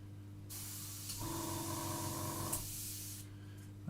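An airbrush being emptied of thinned lacquer paint, giving a close, steady hiss of spray that lasts about three seconds, with a brief change in tone partway through.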